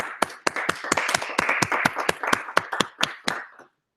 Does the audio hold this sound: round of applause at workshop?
yes